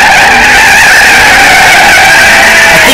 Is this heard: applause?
no